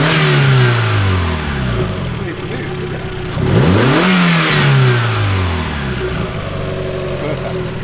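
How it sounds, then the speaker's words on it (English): A turbocharged Mazda MX5 engine, fresh engine mounts fitted, rises in two quick revs from idle and falls back, loud and close, with faint talk nearby. "So I'm going to get Ali to give it a little rev now the engine mounts are in."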